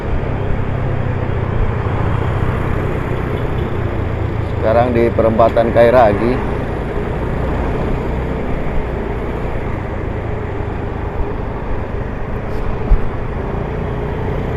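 Cars and motorbikes speed along a city road at the Kairagi intersection in Manado in the morning, a steady close traffic roar running the whole time beneath someone talking.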